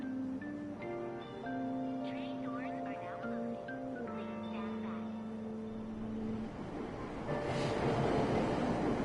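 A train at Aoyama Ichome station in Persona 5 Royal, with a melodic chime playing over low rail rumble that swells into a louder, broad rushing wash near the end.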